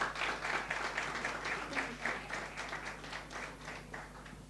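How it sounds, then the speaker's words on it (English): Audience at a teacher education research session applauding contributors, fairly quiet, steady clapping from a modest crowd with a faint hum underneath. "So please let us give a resounding round of applause for contributors."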